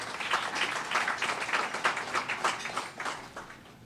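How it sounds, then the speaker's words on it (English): Audience applause at a fundraiser and graduation gala for a national drug abuse prevention council: a room of people clapping in a steady patter that swells slightly and fades toward the end, with no talk over it. "Could we give them a round of applause?"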